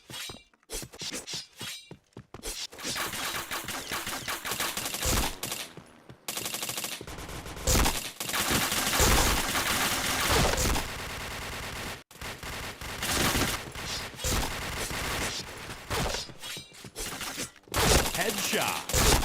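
Rapid automatic gunfire bursts from the Point Blank shooter game, dense and loud almost throughout with short gaps between sprays, mixed with sharp impact and clink sounds.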